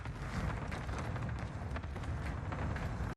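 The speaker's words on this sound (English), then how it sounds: "You're going to hear the footstep audio." Enemy footsteps in Warzone Rebirth Island, a video game: a steady run of rapid thudding steps and scuffs, fairly loud and continuous, with no voices over them.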